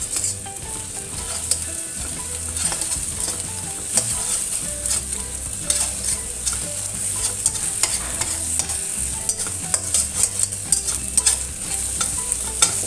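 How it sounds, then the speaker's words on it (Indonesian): Eggs stir-fried in a pan, with a steady loud sizzle and the repeated scrape of a utensil stirring throughout, close up, no voices. "telurnya dioseng-oseng atau diaduk-aduk seperti ini"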